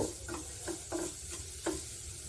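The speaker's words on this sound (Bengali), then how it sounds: "নারকেল কোড়ানোটা হালকা একটু লাল করে আমি ভাজবো।" Freshly grated coconut fries lightly in a pan with a pinch of salt. A soft, steady sizzle is broken by several short scraping stirs of a spatula.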